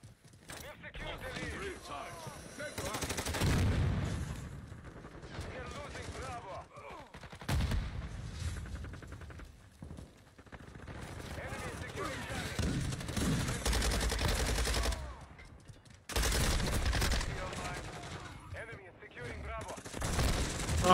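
Shotgun blasts and other gunfire in a first-person shooter video game, loud sharp bursts recurring throughout, with a player's voice talking over and between the shots.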